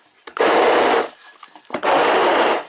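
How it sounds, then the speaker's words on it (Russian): Hand blender pureeing juice for jelly in a home kitchen, two bursts of loud whirring motor noise, each lasting under a second, with a short pause between them. "Сейчас блендером пробью и поставлю на огонь."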